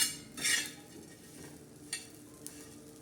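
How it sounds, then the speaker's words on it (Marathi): Dried fish being dry-roasted in a pan gives a faint, low crackle, interrupted by a few distinct scrapes of a utensil stirring against the metal. The setting is quiet, with no talk. "आता हे सुकट बघा असं मस्त भाजून घ्यायचं लालसर"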